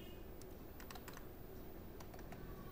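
Rapid clicking of a computer keyboard while a file name is typed during an online photo upload, crisp irregular keystrokes close up over a steady low room hum.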